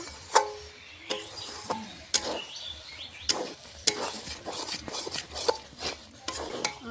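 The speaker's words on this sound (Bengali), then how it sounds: "নেড়ে ছেড়ে সুজিটা নামিয়ে নেব" A spoon scrapes and clinks against a pan while semolina upma with mixed vegetables is stirred, irregular sharp knocks and scraping strokes over a soft low sizzle, close and fairly quiet.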